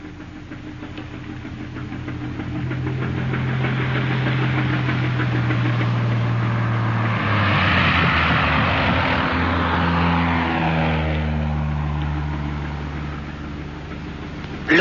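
An aircraft engine drone plays as a sound effect in a radio drama, a steady low hum that swells into a louder roaring pass around the middle, then recedes with falling pitch.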